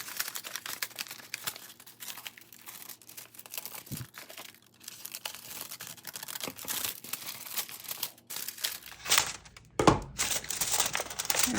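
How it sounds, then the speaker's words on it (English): Junk mail paper torn and crumpled up close, a continuous run of crinkling, rustling and ripping that grows busier and louder near the end. "just want the front, so I'm not too concerned about ripping it up."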